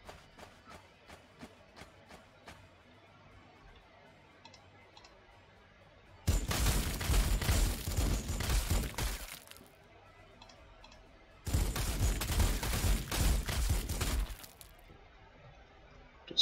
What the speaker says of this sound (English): Destroying a building through firepower.